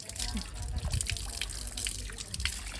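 Water fed from a dam runs continuously along a channel in a village cashew orchard, a steady close rushing and splashing that never lets up, with faint voices underneath.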